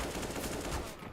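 Rapid automatic gunfire rattles in a dense burst during a Counter-Strike: Global Offensive professional tournament match, loud and unbroken for about a second.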